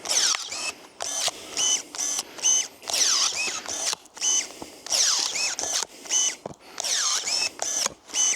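Battery-powered pruner working on a thick willow branch, repeated whirring motor bursts that rise and fall in pitch, each lasting under a second with brief gaps and clicks, loud and close with no talking.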